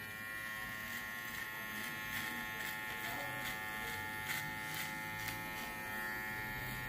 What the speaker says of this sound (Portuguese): Tô tirando só o excesso aqui com a maquininha.